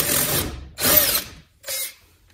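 A power tool whirs in three short bursts, near and loud, backing out the brake caliper bolts on a 2008 Toyota Prius front passenger side, with brief silences between runs.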